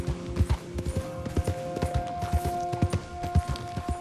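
Horse hooves clopping at a steady riding gait in the Red Dead Redemption 2 video game, rhythmic close thuds under a faint tonal music bed.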